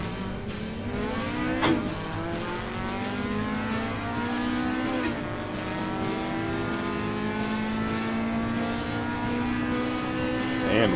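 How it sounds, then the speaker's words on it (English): A supercharged Toyota MR2 and a C110 Nissan Skyline race on a mountain touge road, their engines revving up and down through repeated gear changes, loud and close, with brief tire squeal. "We've got the supercharged MR2 chasing the C110 Skyline"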